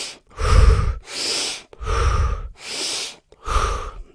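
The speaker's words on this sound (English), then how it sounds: "it's more of a hyperventilative type of breathing. So it's quick inhales and exhales" Rapid hyperventilating breaths in the Wim Hof method, loud and close, with a quick forceful inhale and exhale repeating about every 1.2 seconds and no talk.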